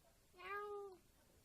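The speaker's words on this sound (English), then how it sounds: "just wanted to show you my cat" A single clear cat meow, about half a second long, rises and then falls. It is close and fairly quiet against a faint background hiss.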